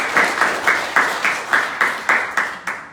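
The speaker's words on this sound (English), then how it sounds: "give them a round of applause for joining us tonight" A small town-hall audience claps in a slow, rhythmic unison, about ten evenly spaced loud claps less than half a second apart, fairly close.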